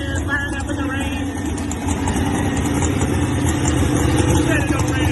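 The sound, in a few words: pulling truck engine firing up and idling in the rain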